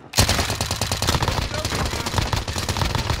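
Sustained automatic gunfire from a video game, rapid bursts of shots firing loud and close almost without pause over a steady low rumble.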